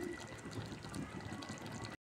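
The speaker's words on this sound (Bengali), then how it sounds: "দেখুন মাংস পানি দিয়ে দিয়েছি" Water poured onto beef in a cooking pot: a soft, continuous gurgling and splashing of liquid, quiet and close, running steadily before stopping abruptly.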